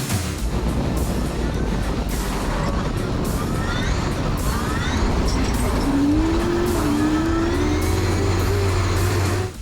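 Drift cars at the World Time Attack Challenge 2022 race event roar continuously with squealing tires, with a sustained engine whine rising midway and crowd-like wash underneath, loud and steady throughout.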